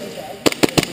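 Three quick airsoft gun shots in an outdoor Stryker airsoft game, sharp snapping pops spaced evenly about a sixth of a second apart, fairly close and loud over a quiet background.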